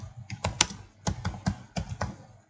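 Code is typed on a computer keyboard in quick, irregular bursts of sharp, close key clicks with short pauses between groups of keystrokes, and no voice is heard.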